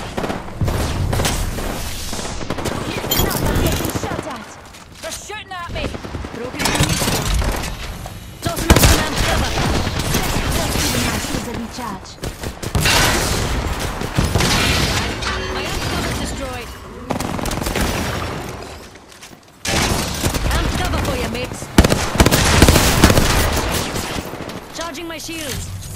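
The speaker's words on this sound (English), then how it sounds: "They're shooting at me." Rapid bursts of automatic gunfire and explosions in an Apex Legends match, loud and nearly continuous with brief lulls, while a player talks over the shooting.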